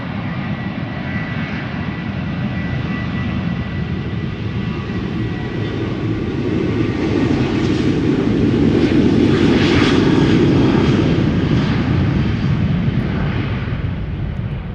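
A KLM Boeing 737-800 jet takes off from Schiphol for Berlin, a steady broad engine roar that swells to a peak midway and then eases off as the aircraft climbs away.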